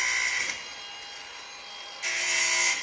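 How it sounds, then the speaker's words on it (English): An angle grinder working on a new ATV trailer hitch whirs loudly and steadily, easing off in the middle before surging back to full pitch. "he's over here with the grinder, the new hitch, and he's already modifying it"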